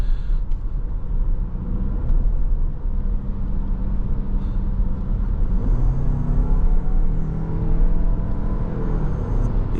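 A 2026 Toyota RAV4 hybrid is heard from inside while it drives and picks up speed. A low, steady rumble of engine and road noise fills the cabin, with a gentle rise in pitch as it accelerates.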